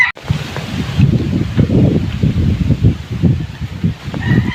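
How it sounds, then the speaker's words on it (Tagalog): Strong wind gusts buffet the microphone at a high work site during lowering of a mixer, a steady roaring rush with low rumbling bursts throughout, loud and close. "Grabe mula sa baba hanggang doon sa taas, hanggang dito sa taas, kalakas ng hangin sobra."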